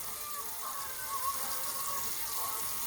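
A bathroom tap runs steadily to wet a toothbrush, giving a continuous soft hiss of flowing water with faint gurgles, close and unbroken for a few seconds with no voices.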